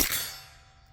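A suppressed Taurus G3 pistol fires one shot, a sharp close crack at the very start with a metallic ring that fades over the following second.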